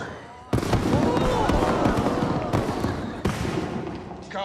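Fireworks burst loudly overhead at a festive outdoor gathering, a sharp crack followed by dense crackling and booming, with more sharp bursts mid-way, under faint voices.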